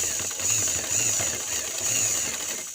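A sewing machine stitches a trouser waistband in a few short, fast mechanical bursts, whirring and rattling close by, then stops near the end.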